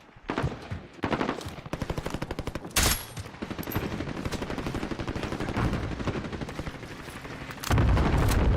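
A sentry gun in a Call of Duty game firing rapid automatic bursts, close and loud, with several louder heavy blasts mixed into the sustained rattle and no talking over it.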